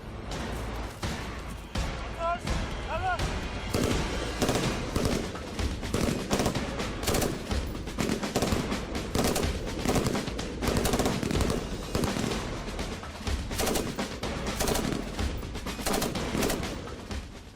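Gunfire at a police special operations shooting range, rapid loud bursts of shots repeating densely and continuously from close by, with voices audible in the background.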